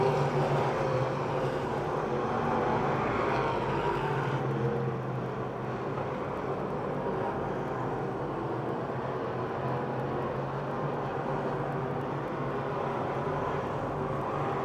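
A pack of race cars thunders into turn 1 at Pennsylvania Motor Speedway near Pittsburgh, a continuous, moderately loud engine roar that dips a little midway and holds steady without talk.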